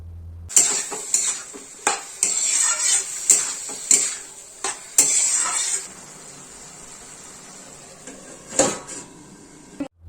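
Ash gourd with salt and turmeric being stirred in a pan for a coconut dish: repeated scraping strokes of a spatula against the metal with light sizzling, busy for several seconds then quieter, no talk.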